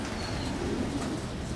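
Racing pigeons coo inside a large loft, a dense low murmur of many birds with a faint higher call, steady and close throughout.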